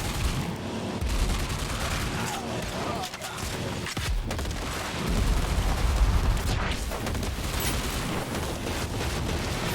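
Gunfire in the vehicular combat video game Carmageddon Rogue Shift, rough bursts of shots and booming blasts over a constant engine and action din, fairly loud throughout.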